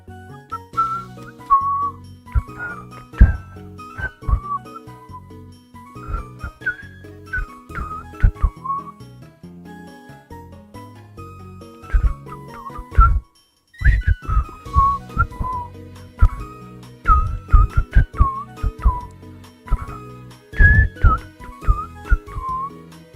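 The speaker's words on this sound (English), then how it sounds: "I shouldn't whistle on stream. I know it sounds terrible through my mic." One person whistles a catchy jingle close into a microphone during a live stream, in short melodic phrases with brief pauses, over sharp taps and clicks, and one full silence partway through.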